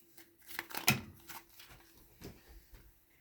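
Tarot cards are handled and shuffled close by, giving soft papery riffles and light taps in uneven bursts, quiet and with no talk over them.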